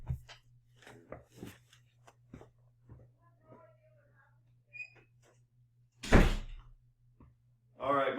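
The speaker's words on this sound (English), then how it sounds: "let me close the door" A door shuts in an indoor room with a solid thump, followed by a second heavy knock near the end; scattered quiet speech and small handling sounds come before it over a low steady hum.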